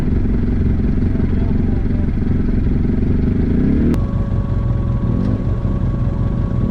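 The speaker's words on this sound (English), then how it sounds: "Quick little launch in the turbo." An Arctic Cat Wildcat Turbo side-by-side idles loudly on a trail, then launches with a sudden rise in engine roar and a turbo whine as it pulls away, heard close up.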